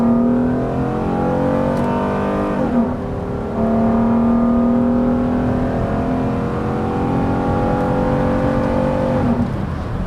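A 2000s Acura engine revs hard in sport mode, its pitch climbing, dropping sharply at two rev-matched downshifts, then climbing again. The sound is loud, continuous and close, with no talking.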